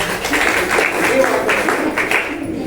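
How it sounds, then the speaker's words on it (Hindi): Audience at a village awareness session in Bihar claps together in a dense, steady burst of applause lasting a couple of seconds, fading slightly toward the end. "ताली बजाइए।"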